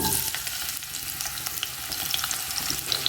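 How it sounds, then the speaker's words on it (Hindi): Sliced onion frying in hot oil for chicken biryani, a dense continuous sizzle with light stirring, close and fairly loud, with no voices. "प्याज को 2 मिनट फ्राई करेंगे।"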